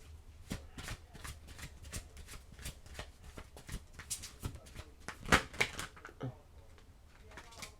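Oracle cards being shuffled in the hands, a steady run of quick papery riffles and flicks with one louder burst of card slaps near the end, fairly quiet and close, with no talking.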